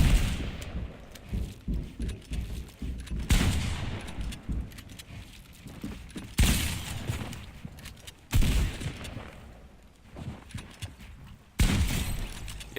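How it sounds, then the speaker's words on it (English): Fortnite weapon fire aimed at a bush, with SMG and shotgun: a series of sharp, loud blasts spaced a few seconds apart, each followed by softer crackling and rattling. "if you're ever dealing with a bush, use an SMG first"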